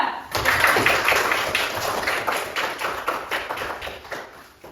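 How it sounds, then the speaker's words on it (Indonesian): A classroom group applauding, a dense burst of clapping from many hands that starts suddenly, stays lively, then gradually thins and fades out. "Tepuk tangan dulu untuk kelompok 2"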